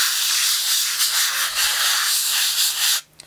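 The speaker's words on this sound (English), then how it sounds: "So we're just going to sand that very lightly." Light circular sanding by hand on a gesso-primed art board, a steady close scratchy rubbing hiss with faint pulses of strokes, continuous for about three seconds before stopping abruptly.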